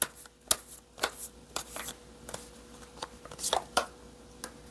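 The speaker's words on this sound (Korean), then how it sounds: "마지막으로 조언 카드 뽑아볼게요." Tarot cards are shuffled and drawn by hand, making a close series of crisp riffling flutters and soft slaps in quick, uneven bursts, with no talk.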